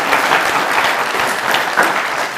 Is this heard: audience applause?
yes